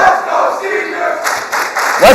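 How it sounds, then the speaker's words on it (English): A crowd of students chants in unison, a loud rhythmic group shout of a few short pulses echoing in a large room, with cheering voices around it. "Let's go seniors chant coming in."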